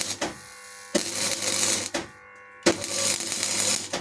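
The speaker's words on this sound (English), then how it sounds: "You weld on both sides." Bursts of MIG welding filling small rust holes in the inner panel of a Ford XC Fairmont GXL left front door. Three close, loud crackling buzzes of about a second each, separated by brief pauses.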